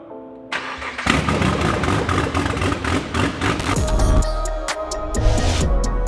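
A car engine fitted with a big turbo upgrade cranks and fires on its first start-up, then settles into a loud, rough running idle with revving swells, close by and alone.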